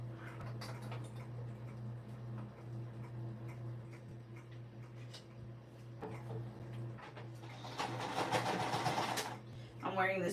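A sewing machine stitching minky fabric for a stuffed ball hums and ticks steadily up close, swelling into a louder, faster run of stitching near the end.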